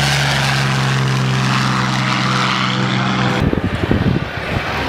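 Loud, sustained roar of warbird propeller planes, a Corsair and a P-40, flying past at the Wanaka air show, the drone cutting off abruptly near the end into rumbling wind buffeting.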